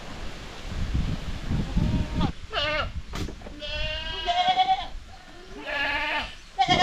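Goats bleating on a backyard farm, several wavering cries rising and falling in quick succession, fairly close and loud over rustling and outdoor noise.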